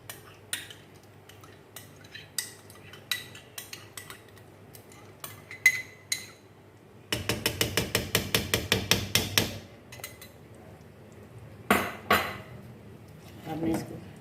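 A metal spoon clinks and knocks against a pot as cream is stirred into chicken malai handi, with sparse taps, a fast rhythmic run of strikes midway, then more scattered knocks, close and fairly quiet.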